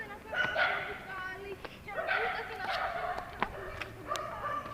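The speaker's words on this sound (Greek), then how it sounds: "τι μας κάνουν τα σκυλάκια" Dogs bark repeatedly in short, sharp bursts, fairly close, in an irregular rhythm against light outdoor background noise.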